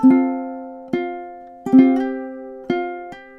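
Ukulele plucking measure 6 of the Celtic tune The Parting Glass: four clear, close notes and chords, each ringing and decaying before the next, played solo at a slow, even pace.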